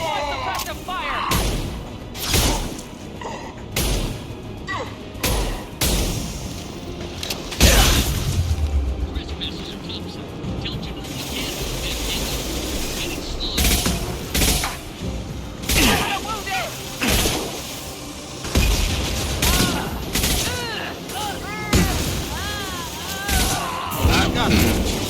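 A Mass Effect 2 sci-fi battle is full of repeated sharp gunshots, booming impacts and bursts of fire, loud and irregular, with voices speaking in between and over the shooting.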